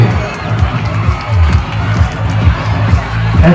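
A crowd of students and audience at a school sub-district arts festival prize distribution ceremony in Kodungallur cheers and shouts loudly and continuously, with rhythmic thumping and noise near and all around.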